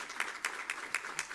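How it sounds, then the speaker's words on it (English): Sparse, rhythmic clapping from a small audience at a hybrid annual general meeting, a few distinct claps repeating roughly every quarter second, faint and slightly distant. "I think that needed applause."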